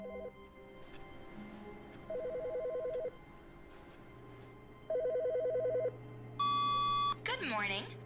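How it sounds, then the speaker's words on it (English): An office telephone in The Stanley Parable rings in repeated electronic trilling bursts separated by pauses, ending in a higher beeping tone and a short warbling sound, loud and near. "The phone is ringing."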